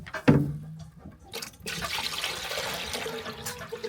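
Water splashes briefly into a container for a hen on a farm during a snowy winter, a short pour followed by a longer trickling, rushing stretch at moderate distance with no talk.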